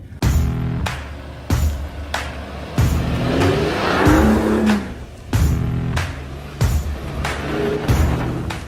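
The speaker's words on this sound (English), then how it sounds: "the car just goes steady at 6 kph" A 2021 Mercedes-AMG GLE 63 S rolls steadily at very low speed off-road over stones and curves, its engine hum close and continuous, broken by repeated sharp bumps and clunks from the rough ground.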